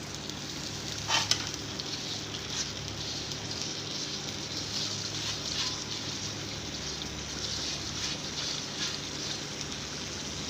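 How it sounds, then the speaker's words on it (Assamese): Cardamom, cinnamon, garlic and onion fry together in a pan, giving a steady, continuous sizzle with faint stirring scrapes, close and even throughout with no talking. "ইলাচি দালচেনি নহৰু পিঁয়াজ গোটেইখিনি একেলগে দি অলপমান ৰঙচুৱাকৈ ভাজিব লাগিব"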